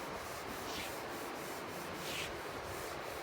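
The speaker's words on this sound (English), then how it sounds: "It's really nice watching somebody else sand." Sanding across a large pecan wood slab for a conference table, a steady close abrasive rubbing with faint rhythmic strokes, continuous and alone with no voices.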